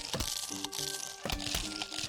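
A squash plant in the video game Plants vs. Zombies smashing down on a zombie, heard as a couple of short crunching impacts over steady, tonal background game music.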